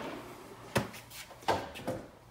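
Wooden drawer pulled open in a wood carving workspace, a few short knocks and slides, fairly near and quiet with no talk.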